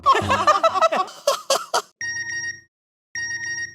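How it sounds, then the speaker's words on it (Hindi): A phone sounds a bright electronic message notification tone twice, each a short repeating chime separated by a pause, coming right after a stretch of lively talk and laughter in a sitcom household scene. "लगता है एड्रेस का मैसेज भी आ गया।"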